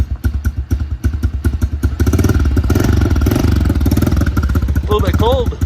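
Honda 110 trail motorcycle idling, a loud close-up rhythmic thumping putter that starts in distinct pulses, then smooths into a faster steady chug, with a brief voice near the end.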